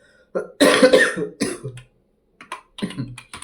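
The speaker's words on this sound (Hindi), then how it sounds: "सॉरी गाइस, खांसी हो गया।" A fit of several close, harsh coughs, a loud burst first and then smaller ones separated by short pauses.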